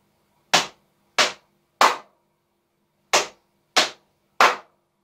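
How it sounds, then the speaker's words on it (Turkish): Body percussion of hands slapping knees and clapping, six crisp, loud smacks in two groups of three, each sharp and dry with silence between them. "İki kez dizimize vuruyoruz."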